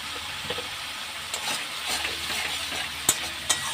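Masala spice paste for a lote fish dish sizzles in a pan as a spoon scrapes and stirs it, with a steady frying hiss and a few sharp clacks of the utensil against the pan.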